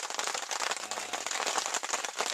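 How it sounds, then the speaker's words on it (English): Rain beginning to fall on a campsite tarp, a dense steady patter of drops spread across the clip with no talking over it. "you can hear it starting to rain"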